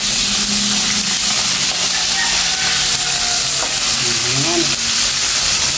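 Fish sizzles loudly in a pan, a dense close hiss and spatter running throughout, while a person talks briefly over it.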